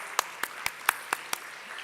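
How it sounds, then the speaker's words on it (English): Six sharp claps ring out at an even, quick pace, a small sparse round of applause rather than a full crowd, at a Civil 20 India conference session. "Wow, that deserves a clap."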